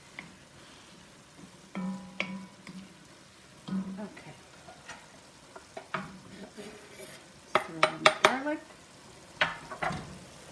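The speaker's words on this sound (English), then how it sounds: "Now I'm going to add my garlic." Garlic added to a pan already holding onions and pancetta for a homemade meat sauce sizzles softly, with scattered stirring and clinks of a utensil against the pan and a few louder bursts.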